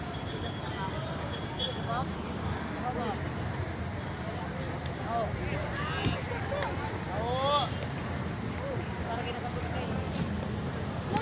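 Wind gusts roar steadily across an open outdoor spot, buffeting the microphone with a low rumble while people talk over it.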